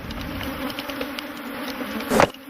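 Honey bees buzz around stacked hives at an African industrial apiary, a steady insect drone with a louder bee passing close near the end.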